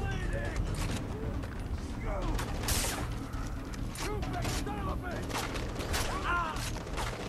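Gunfire in Far Cry 3, with scattered shots and mechanical clatter mixed with birdsong, running under near-constant talking.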